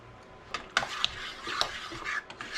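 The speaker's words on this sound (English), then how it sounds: "Stir it all up, mix it all up" A spoon scrapes and clinks around a pot of butternut squash soup, with irregular knocks against the metal sides and soft sloshing between strokes, close and fairly quiet.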